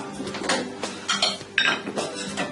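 Steak au poivre set onto a plate, with repeated clinks and scrapes of cutlery against china coming in short, close bursts.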